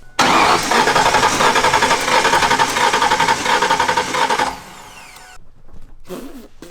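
A 5.0 engine in a turbo-swapped Ford Ranger cranks loudly and steadily on the starter for about four seconds during a compression test, with a rapid pulsing rhythm, then stops, leaving quieter mechanical clicks and rustling.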